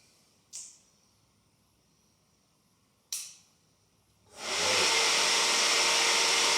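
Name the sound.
motorcycle ignition and fuel pump activating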